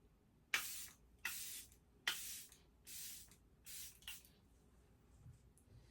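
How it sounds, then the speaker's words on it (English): Charlotte Tilbury setting spray misted in five or six short, close bursts at a steady rhythm, each a sharp hiss that cuts off quickly, the final puffs weaker, with a quiet room between them. "now I'm gonna go in with the mother of all setting sprays"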